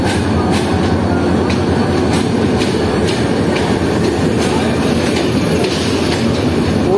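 Baba Fareed Express passenger train led by a GU20 locomotive pulls into a Pakistani station, a loud steady roar of rolling coaches with clattering wheels close by, no voices.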